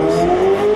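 A McLaren sports car engine holds a loud, steady, close roar with a strong droning tone throughout the brief moment.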